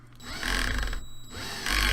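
A cordless drill drives screws into an airsoft rifle with its clutch collar set low, whirring in short bursts separated by brief pauses, close and fairly loud with no talking.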